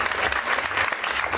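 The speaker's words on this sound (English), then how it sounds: "Let me get a round of applause for that." Theater audience applause, a dense, close wash of clapping hands that continues steadily throughout without pauses.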